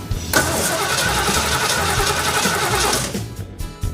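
A Ford muscle truck engine cranks over steadily at close range for about three seconds without catching, a loud continuous churning that cuts off near the end.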